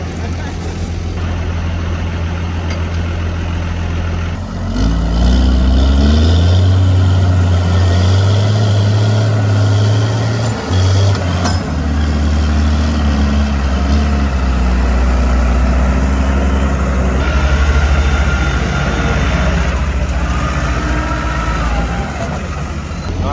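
A tractor engine labours loud and close while pulling another tractor stuck in a field during maize silage, its low drone rising and holding steady with brief dips, and voices talk over it.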